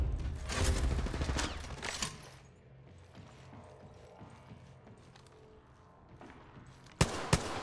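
Gunfire in the mobile battle royale game Apex Legends Mobile: a dense burst of rapid shots up front, a quieter stretch, then two sharp loud reports near the end, with no talk.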